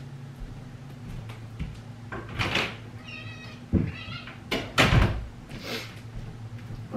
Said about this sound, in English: Give me a second so I can let my cat back in the room.